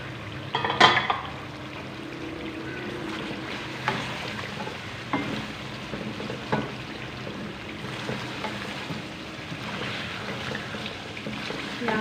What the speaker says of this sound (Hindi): यहाँ पे 5 मिनट के लिए और पका लेते हैं ताकि चिकन हमारा अच्छे से गल जाए।